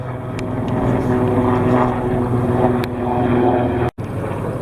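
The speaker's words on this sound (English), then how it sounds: "a military helicopter going over" A military helicopter flies over the mountains near Grosse Scheidegg, making a loud, steady rotor and engine roar that stays constant throughout.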